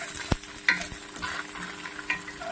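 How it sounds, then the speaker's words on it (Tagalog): Onion stirred into spaghetti sauce sautéing in a pan, producing a soft steady sizzle under a few sharp spoon knocks and scrapes against the pan. "ilagay na natin ang sibuyas. Sibuyas, and then halo-haloin natin."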